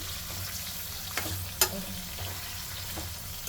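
Bitter gourd (kakarakaya) masala curry cooks in a pan with a steady low sizzle, broken by a few soft stirring clicks and one sharper utensil tap.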